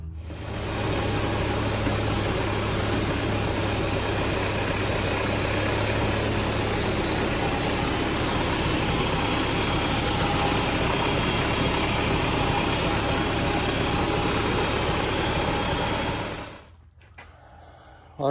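A 1948 Farmall Super A tractor engine runs steadily at idle with a loud, even, close rumble for about sixteen seconds, then cuts off abruptly into near silence.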